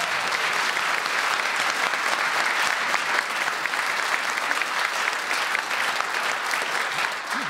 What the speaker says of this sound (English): from here in the Radio Theatre, we also send you this beautifully coordinated round of applause